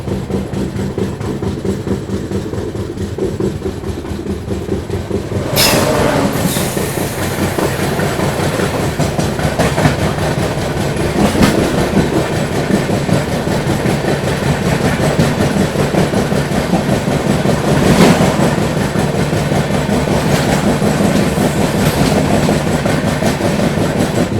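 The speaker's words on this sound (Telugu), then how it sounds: "మహబూబాబాద్కి గౌతమి సూపర్ ఫాస్ట్ అయితే వచ్చింది." The Gautami Superfast Express passes on the rail line near Mahabubabad, a loud, steady rumble of wagons with clickety-clack over the joints and a sharp horn-like burst early on, continuing without pause.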